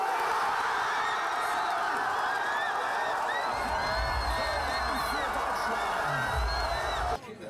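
Football fans in the Berlin fan zone cheer and whoop loudly for Germany's goals at the European Championship, a dense sustained roar of the crowd with scattered shouts and voices mixed in throughout.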